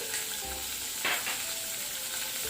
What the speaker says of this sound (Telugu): మనం సేమ్ కడాయి అనేది దాంట్లో ఇప్పుడు మనం మెయిన్ స్టెప్ అండి, ఆల్ వెజిటేబుల్స్ అన్ని ఫ్రై చేసుకుందాం